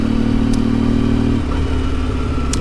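A Yamaha XTZ 750 motorcycle engine running loud and close, a steady low throb that drops slightly in pitch midway, with a faint clatter and a couple of short clicks.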